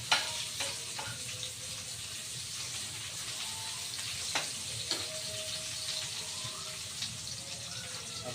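Chopped onions fry in a pan for tinolang manok chicken soup, giving a steady close hiss of sizzling with a few clinks and stirring knocks, with no talk.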